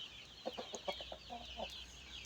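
Farmyard fowl call in a short series of clucks from a rooster, with peafowl kept nearby, heard at moderate distance over a steady high background hiss.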